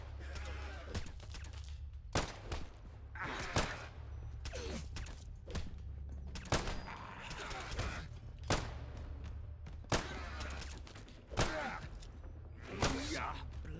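Pistol gunfire in the video game Fallout London: a string of sharp, fairly faint shots spaced a second or two apart, interleaved with talking.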